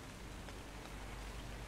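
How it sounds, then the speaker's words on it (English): Steady, dense rainfall in the video game ARK: Survival Evolved, a soft continuous patter of drops at low level with no voices over it. "It is a nice, lovely, rainy day"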